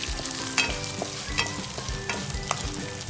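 Broken cashew bits roast in hot oil with a continuous sizzle and crackle, punctuated by several sharp stirring clicks against the pan, close up with no talking.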